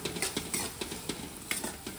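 Onions with green chillies being stir-fried in a pan for paneer bhurji, a soft continuous sizzle broken by regular scraping stirs, close and fairly quiet, with no voices.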